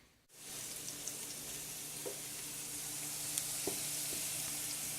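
Potatoes sauté in a pan with a steady, faint, close-up sizzle and occasional small pops and crackles throughout, and no talking.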